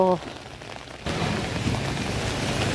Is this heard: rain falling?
yes